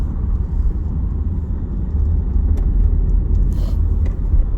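A car drives through the central streets of Barrow-in-Furness, its steady engine and road rumble loud and continuous with no talk over it.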